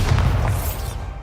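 A Bombarda explosion spell going off in Hogwarts Legacy, a short, heavy, booming burst with a low rumble that fades quickly.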